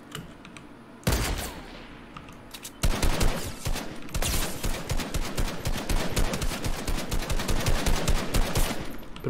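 Rapid automatic gunfire from a P90 and shotgun in a shooter video game, starting after a pause and building into a dense, sustained burst of shots with no talking.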